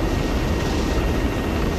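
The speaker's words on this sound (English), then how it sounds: "As soon as the helicopter touches down, I want you in it, no excuses." A helicopter in the military video game Arma 3 drones loudly and steadily, a dense continuous rotor and engine roar with no talk over it.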